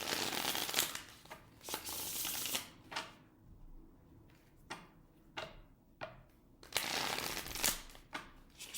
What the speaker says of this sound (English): So I'm just going to shuffle once or twice